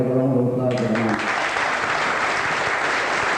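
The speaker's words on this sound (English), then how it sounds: "So we have a round of applause for him." Clapping from a crowd at a town football club awards dinner swells and holds steady and loud, and a voice is speaking just before it begins.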